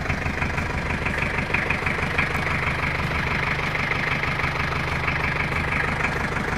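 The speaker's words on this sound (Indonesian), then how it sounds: "inilah dia suara mesin Troopernya" A 1990 Chevrolet Trooper diesel engine idles just after starting, with an even knocking chug and rattling vibration that holds steady, close and alone.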